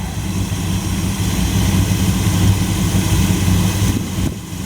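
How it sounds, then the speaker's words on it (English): A 1929 Chrysler engine runs steadily at close range, a loud, even low rumble with a smooth idle-like rhythm that holds for several seconds before dipping briefly near the end. "Motor sounds really good now."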